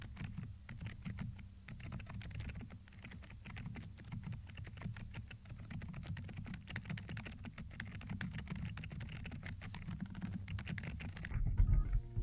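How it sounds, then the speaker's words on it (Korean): Steady, soft typing on a Hansung GK798PRO mechanical keyboard with Brown Sugar Todok non-clicky tactile switches (35g actuation), muted keystrokes, continuous and close, ending in a few louder thumps. "지금 타건하는 키보드에는 브라운슈가 토독 스위치가 체결되어 있습니다."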